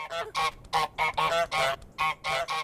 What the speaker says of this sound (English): And yes, that means twice as much honking.